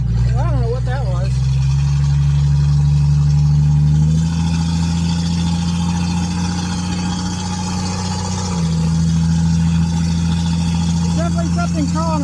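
A 1966 Ford Falcon engine drones steadily while driving with no floorboard, a loud low hum that shifts pitch as it changes gear, with a voice talking over it at times.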